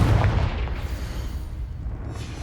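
The Confringo spell explodes in Hogwarts Legacy with a heavy boom at the start, then a low rumbling burst that slowly decays into a dull roar.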